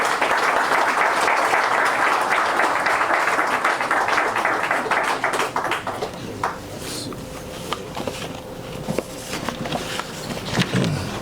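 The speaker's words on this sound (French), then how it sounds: "sous les applaudissements de cette audience assemblée." Audience applause at a French-language official signing ceremony on medical coverage rates: dense, loud clapping from an assembled crowd for about six seconds, then thinning into scattered claps.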